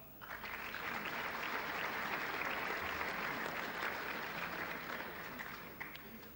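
Sustained, loud applause from a large commencement audience at Al Akhawayn University, honoring a group of graduates. It rises quickly and holds steady as a dense wash of clapping for the whole stretch, with no voices over it.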